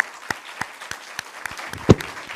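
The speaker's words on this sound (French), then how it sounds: "je vous propose de les applaudir" Audience applause for a panel of participants, a sparse, thin scatter of claps in an irregular rhythm, fairly near, with one louder thump and no talk.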